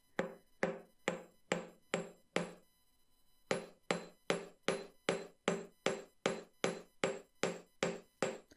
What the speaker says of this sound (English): in order just to flatten this out a little bit, I'm going to hammer that side.